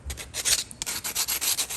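Sandpaper, 120 to 180 grit, rubbing around the top electrode of a spark plug, a close, rhythmic series of short scratchy strokes, about ten quick rasping passes in under two seconds with no talking.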